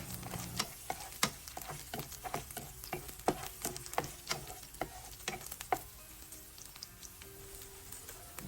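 Garlic sizzles in oil in a pan while being stirred, with a steady rhythm of sharp scraping strokes over a continuous fry, fading to a quieter sizzle toward the end.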